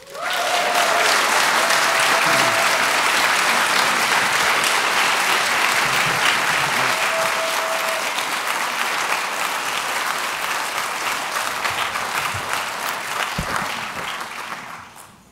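A large audience at a Cooperative Extension centennial convocation breaks into loud, sustained applause, a dense wash of clapping that holds steady for many seconds before thinning out and fading near the end.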